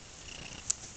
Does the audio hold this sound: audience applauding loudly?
no